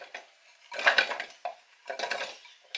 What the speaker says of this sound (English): So the first thing I'm going to do is to chop the beetroots in here.